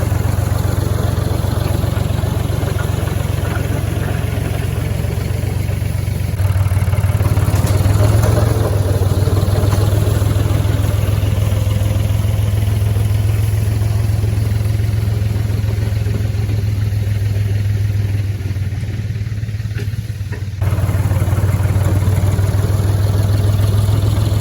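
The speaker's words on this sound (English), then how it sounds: "I'm going to take the tractor and scrape the gravel off the driveway" Tractor working nonstop while scraping surface gravel off a driveway, a steady loud low engine drone with a rough mechanical rumble, close by and heard alone without talk.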